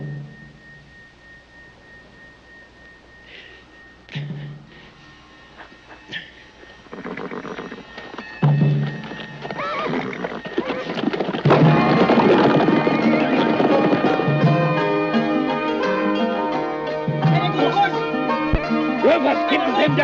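Horses in a classic western scene, hooves clip-clopping and galloping with a loud neigh, building in intensity alongside music and shouted voices.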